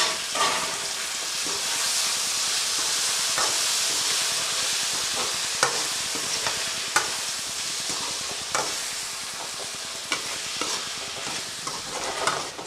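Onions and tomatoes sauté in a pan for a curry-leaf kuzhambu, a steady loud sizzle and hiss broken by repeated scraping stirs, with no talking.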